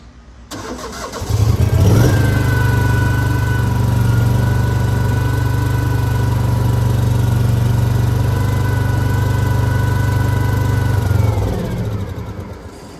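A cheap, worn skid steer's engine fires up and runs steadily at a loud, close idle with a rough low drone, then shuts down near the end.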